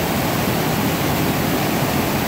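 Water from a small tributary creek crossing the Pacific Crest Trail, running high enough to be a real obstacle, gives a steady, loud, broadband rush throughout, close by with no pauses and no voices.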